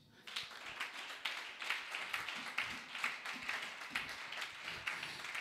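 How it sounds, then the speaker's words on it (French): A church congregation applauding, a lively stretch of clapping with a strong, irregular pulse that starts abruptly and holds steady throughout. "Donnons-lui une main d'acclamation."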